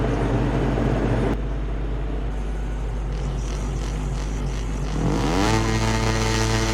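Racing motorcycles roar at the start of a video-game race at Termas de Rio Hondo, a loud continuous engine drone that climbs sharply into a rising rev near the end.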